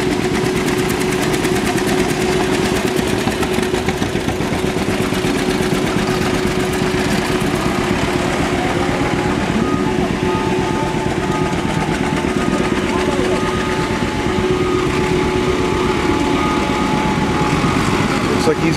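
An old John Deere tractor runs at a steam and gas engine show tractor pull, a loud, steady low chugging throb that holds throughout, with a crowd and announcer talking over it.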